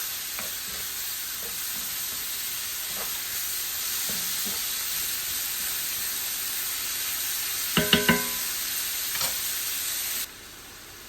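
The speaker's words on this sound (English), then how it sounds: "The butter that we put in is going to cook real nice in the fat and all the flavoring of the pan." Butter and a ribeye steak sizzling in a pan indoors, a loud, steady frying hiss with a few sharper crackles and utensil clinks near the end before the sound cuts off abruptly.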